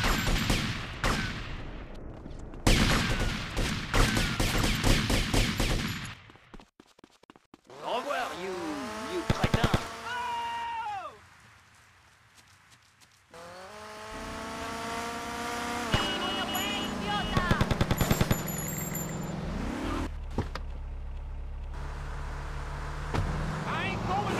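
Bursts of gunfire in a GTA video game mix with revving vehicle engines and tire squeals, with a voice speaking over the action.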